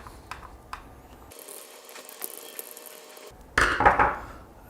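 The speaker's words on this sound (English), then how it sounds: "open this screw" A screw being undone to open the plastic shield on a KinCony KC868-T16M ESP32-S3 smart controller: scattered small clicks, a stretch of ratcheting screwdriver whir, then a louder rattle and clatter as the part comes loose.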